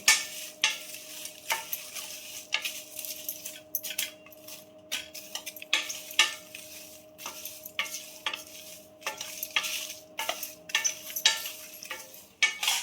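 Mutton masala spices are dry-roasted in a pan, with a continuous rapid scraping and rattling of a spoon stirring against the metal, a faint steady hum underneath.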